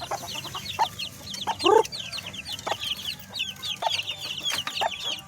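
Hens cluck repeatedly with faint high chick peeps scattered throughout, one louder squawking call midway, over a steady outdoor background.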